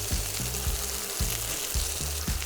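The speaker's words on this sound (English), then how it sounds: "we're basically just gonna pan fry these until they get crispy on each side" Chili-sauce-glazed pieces pan fry until crisp, a quiet steady sizzle with several soft, irregular taps and scrapes of a utensil in the pan.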